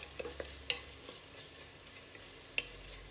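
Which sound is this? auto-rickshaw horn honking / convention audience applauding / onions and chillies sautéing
onions and chillies sautéing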